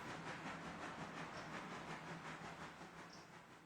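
A freight train runs in the Railroader railway game, a steady, faint rumble with a soft rhythmic clatter and hiss that holds throughout and carries no speech.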